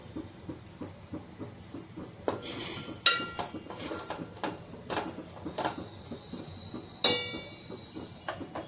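Onions stirred in a cooking pot, a quiet series of scraping clinks and metallic taps of a spoon against the pot, irregular, with a few sharper knocks standing out.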